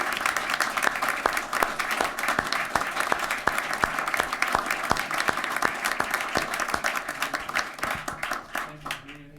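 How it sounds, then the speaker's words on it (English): Audience applause fills a city council meeting in Hamilton, a steady, dense clapping that runs loud and close throughout before thinning slightly at the end. "How about a round of applause for these heroes here?"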